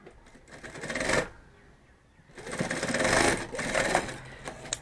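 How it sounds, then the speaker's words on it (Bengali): A sewing machine stitches a handmade bag in two rapid, buzzing bursts, close and alone, separated by a short quiet pause. "এইভাবে সেলাই হয়ে গেল।"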